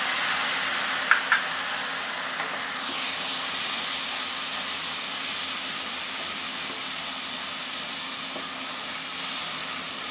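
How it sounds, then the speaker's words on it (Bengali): Onion paste fries in hot oil in a pan, a steady loud sizzle and hiss that continues throughout, with a couple of faint knocks near the start. "পেঁয়াজ বাটাটা আমি দু মিনিট মতো ভালো করে তেলে ভেজে নেব"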